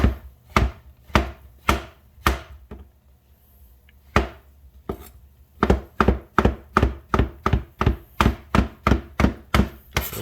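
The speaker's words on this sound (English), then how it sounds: "And these mushrooms are king oyster mushrooms." A knife chops king oyster mushrooms into strips on a wooden board. The cuts come as sharp, close thuds, sparse at first, then a brief pause, then a quick, even run of strokes.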